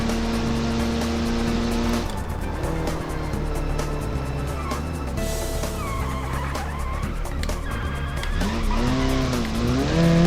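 Engine of a Soviet touge race car in BeamNG driving hard, a sustained loud drone with rising and falling revs and tire squeal under gear changes, continuous throughout.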